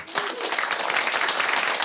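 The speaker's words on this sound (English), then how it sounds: "A round of applause for Sandeep." Audience applause for a conference speaker about to give a talk on NumPy, a short burst of dense clapping from a seated crowd, steady and fairly close.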